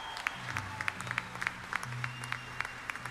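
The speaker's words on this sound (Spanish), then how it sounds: "Fuerte aplauso." Audience at a concert in Costa Rica applauds steadily after an orchestra performance, with quick claps over a faint sustained instrumental tone.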